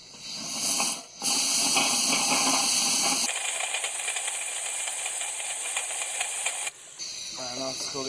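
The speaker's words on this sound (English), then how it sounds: "let's flush this with that air one the other way" Compressed air blown through a 2006 Pontiac Grand Prix heater core during a flush, a loud steady hiss in bursts with brief pauses and cutoffs, close by, with speech at the end.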